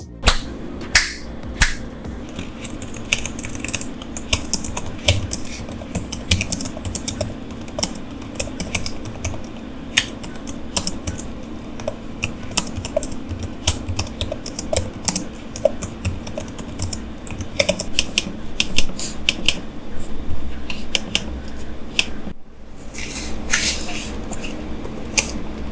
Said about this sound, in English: Here is where you can listen to both the keyboards and the trackpads of the HP Envy 14